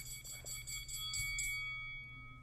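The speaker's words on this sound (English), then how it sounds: "Oh, with the bell?" A bell rings in quick repeated strikes, bright and ringing, to close a UFC fight preview segment, then fades out with a lingering tone, with no talking over it.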